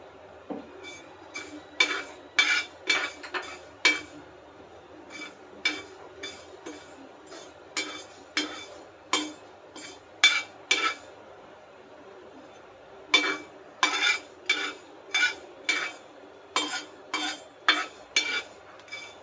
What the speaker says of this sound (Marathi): यानंतर आपण मेथी भाजून घेऊया